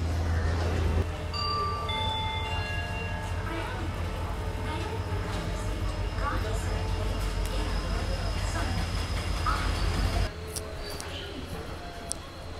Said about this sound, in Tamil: நம்மளுடைய ட்ரெயின் இப்போ பார்த்தீங்கன்னா யஸ்வந்த்பூர் ஜங்ஷனில் இருந்து ஆன் டைம் 3:00 டிபார்ட் ஆச்சுங்க